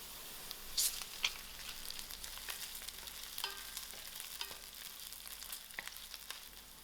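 Onions sizzle quietly in a pan with cinnamon sticks and ginger garlic for a mutton curry pie filling, a low steady frying hiss broken by a few sharp stirring clinks and scrapes, with no talk.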